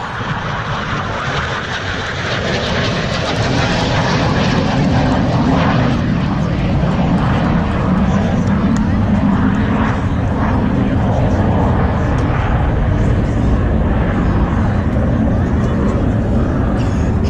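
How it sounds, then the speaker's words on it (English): An F-18 jet on a Blue Angels practice low pass at Pensacola, Florida, with gear, flaps and hook down, roars past, its engine noise swelling into a sustained loud rumble and whoosh, with voices talking over it. "Commander Weiser's got his F-18 dirtied up."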